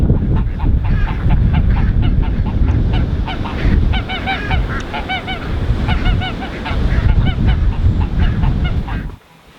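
Several geese honk loudly and repeatedly in a garden setting, a dense, overlapping chorus of nasal calls with clucking fowl mixed in, continuing for several seconds before cutting off abruptly.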